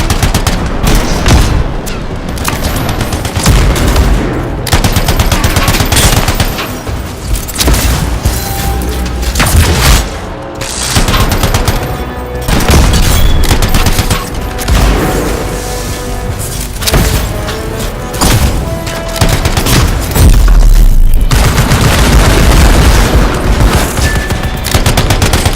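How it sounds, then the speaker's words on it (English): In the Anthem video game, a canister explosion trap goes off amid dense, loud gunfire, with booming blasts and rapid automatic bursts that continue almost without pause. "It'll be a contained explosion."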